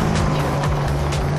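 Herbie, a rally car driven by Helmut Zierl, passes on a scenic rally route with a loud continuous engine roar whose pitch sweeps down as it goes by.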